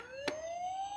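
A toy emergency vehicle siren gives a steady electronic tone slowly rising in pitch, with a brief click partway through, fairly soft and clear.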